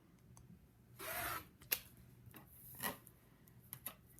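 A cutter drawn along a ruler through fabric, two soft rasping strokes close by, each about half a second long, with small clicks and taps in between in a quiet room.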